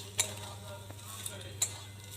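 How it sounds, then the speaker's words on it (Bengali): A spoon stirs vegetable chop filling in a pan, making faint scraping with a couple of sharp metallic clinks against the pan, close and quiet. "একটু নেড়ে দেবো।"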